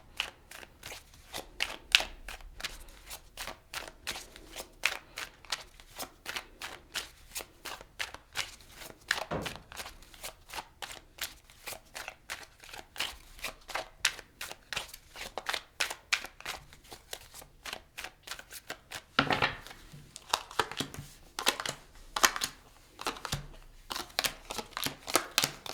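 Tarot cards shuffled by hand at close range, a steady stream of soft rapid flicks and riffles with a few louder slaps as the deck is squared, fairly quiet and without voices.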